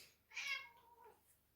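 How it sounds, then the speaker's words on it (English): A single faint meow, a rising then falling cry, in a quiet room with no talking. "if you hear some meowing"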